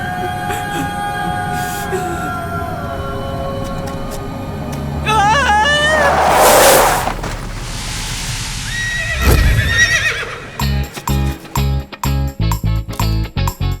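A horse pulling a cart in a village gives a loud, rising whinny in the middle, followed by a quick run of rhythmic hoof clops at the end, with people talking and sounds overlapping throughout.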